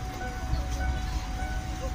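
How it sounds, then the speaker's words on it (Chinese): A freight train rolls past a railway crossing with a steady low rumble throughout. It sounds fairly distant and continuous, and faint voices can be heard in the background. "哎呦，是一辆货车。"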